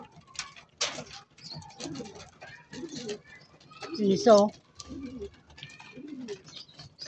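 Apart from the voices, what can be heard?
pigeons cooing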